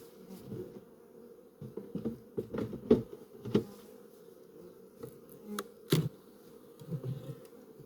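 Steady low buzzing of many honeybees at close range around hive frames during a hive inspection at an apiary, with scattered sharp clicks and knocks from handling the frames on top.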